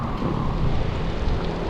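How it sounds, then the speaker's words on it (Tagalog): Steady rain during a road bike ride on the Laguna loop via Jala-Jala, a dense, loud wash of rain noise with low rumbling from wind or traffic and no clear voices. "Umuulan pa rin."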